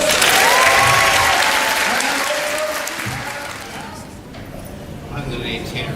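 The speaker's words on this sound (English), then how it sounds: "Everyone give her a round of applause" An audience at an astronomical society gathering breaks into loud, dense applause that dips and fades midway, then picks up again briefly, and a voice speaks over the clapping.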